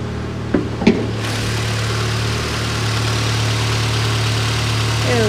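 A 2010 Ford Escape's 2.5-liter engine idles high while cold, a steady mid-low hum heard close up after a couple of brief clunks near the start.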